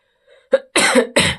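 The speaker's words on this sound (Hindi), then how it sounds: "खांसी हो गया।" A short burst of about three close, loud coughs in quick succession, with no speech.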